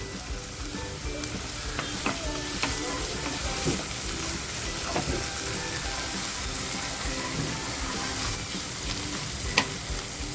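Pounded garlic and chillies fry in a pan for brinjal curry, giving a steady, close sizzle with light stirring scrapes and occasional clinks.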